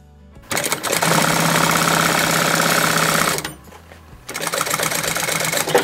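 Domestic sewing machine stitching fabric, a loud, close, fast mechanical whir that runs for about three seconds, stops briefly, then starts again.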